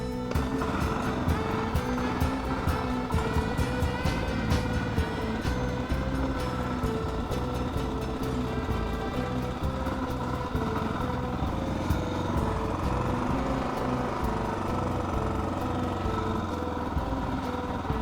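A motorcycle fitted with saddlebags on a 5.8 gallon Acerbis tank cruises steadily, a loud continuous engine roar mixed with wind rush that stays constant throughout, with no talk.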